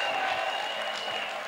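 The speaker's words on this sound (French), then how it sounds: "Vous avez applaudi pour Jésus-Christ." A church congregation at a praise and thanksgiving festival claps as an offering for Jesus, a steady dense wash of applause from a large crowd that holds at an even level throughout.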